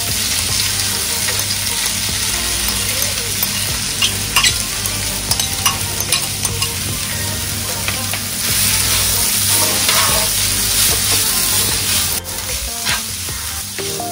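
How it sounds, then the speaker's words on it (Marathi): Vegetables frying in hot oil in a frying pan, with a steady, close sizzle throughout and light scraping and stirring sounds on top. "तर आपण फ्राय पॅन गरम करायला ठेवला आहे, तेल टाकलं आहे आणि या सगळ्या भाज्या आता जरा फ्राय करून घेऊया"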